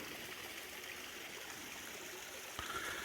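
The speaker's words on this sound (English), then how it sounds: "the sound of the creek" A creek flows in a steady, full rush of water on a foggy, misty morning, unbroken for the whole stretch with a slight extra splash near the end.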